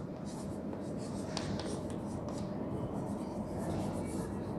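Roman letters are written on a board, giving soft scratchy strokes in short bursts over a steady low rumbling background, close and faint.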